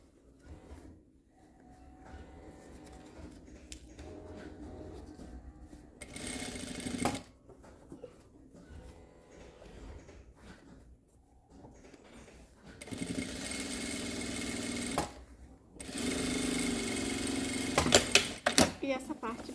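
A sewing machine runs a straight seam to close the lining of a fabric laptop bag in several short bursts of rapid stitching, with a person talking and handling the fabric in the pauses between.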